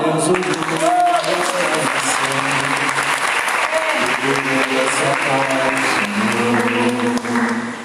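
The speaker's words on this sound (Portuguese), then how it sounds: "Você pode aplaudir ao Senhor?" A church congregation applauds loudly and steadily for the whole stretch, with sustained singing or voices carrying tones underneath the dense clapping.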